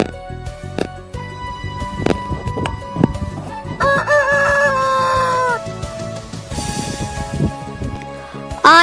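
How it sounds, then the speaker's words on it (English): A rooster crows in a strained cock-a-doodle-doo call, with clucking fowl and a bright musical backing underneath. "H for hen"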